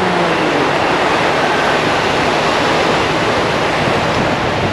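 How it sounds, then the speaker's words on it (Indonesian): A small forest stream at a solo camping spot rushes in a loud, steady broadband flow with no pauses and no voices. "Anak sungai."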